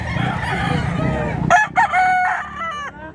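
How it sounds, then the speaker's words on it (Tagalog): Aging rooster lets out a loud, close crow with a drawn-out wavering tail, following a stretch of low background noise. "Wapo, matandang manok"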